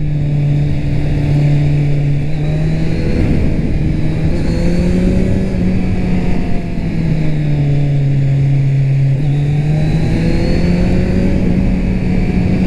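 A 2020 Kawasaki Z900 motorcycle on the move through winding roads, its engine droning loud and close, with the pitch rising and falling as the throttle changes and wind rushing over it throughout.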